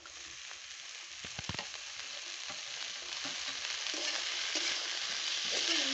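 Potatoes fry with onions in a pan, sizzling steadily while a utensil stirs and scrapes through them with a few sharp clacks, the sizzle growing slightly louder.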